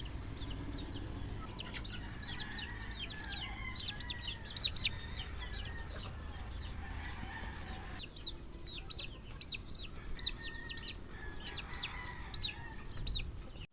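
Chickens and small chicks cluck and peep in a backyard scratch pen at a gamefowl farm, with steady overlapping calls, repeated chirps and occasional louder clucks over a constant low background hum.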